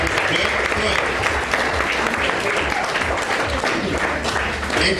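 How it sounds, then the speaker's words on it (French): A slam poetry crowd applauds a poet, loud and dense clapping sustained throughout with voices and cheering mixed into the noise. "On peut applaudir leur poète"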